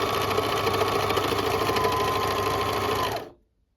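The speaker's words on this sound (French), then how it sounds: "Vous allez ensuite surjeter votre marche de couture." A serger overlocks the seam allowance of a sewing project, running as a steady loud mechanical whir for about three seconds before stopping abruptly, with no talking.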